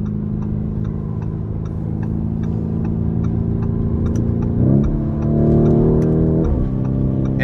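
A 2019 Lamborghini Urus with its 4.0-litre twin-turbo V8 pulls steadily from inside the cabin, its drone climbing smoothly and then stepping up with two shifts as the turbos build, with faint ticking over the engine.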